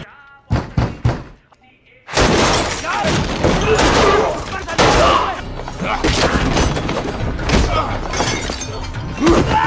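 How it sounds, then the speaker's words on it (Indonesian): Gunshots in an action film scene: a few sharp isolated shots at the start, then after a brief lull a dense, loud burst of gunfire and impacts continues throughout, mixed with other film sound and voices. "rekan Tyler langsung menembak kepala si penculik"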